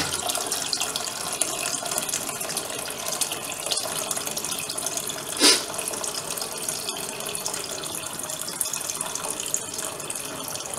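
Water poured steadily into a pot of rasam on the stove, a continuous running splash that lasts throughout, with one brief louder slosh midway.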